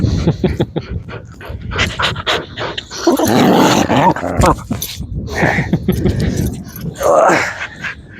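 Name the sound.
Pomeranian Husky mix dogs barking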